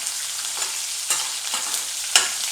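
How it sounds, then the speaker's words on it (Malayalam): Garlic and shallots sautéing in a pan for kadamba chutney: a bright, steady sizzle with a few sharp stirring scrapes, close and alone. "ഇത് ചെറുതായിട്ട് ഉള്ളി ഒന്ന് നിറം മാറി തുടങ്ങുന്നത് വരെ വഴറ്റാം."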